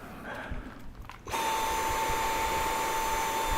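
A Dyson V7 Animal handheld stick vacuum switches on partway through, its steady high-pitched motor whine with a sharp tonal hum running loud and close, alone after a brief quieter stretch.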